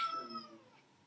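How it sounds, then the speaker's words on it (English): A house cat gives a single clear, drawn-out meow close by, fading out over about a second in a quiet room. "That's my cat."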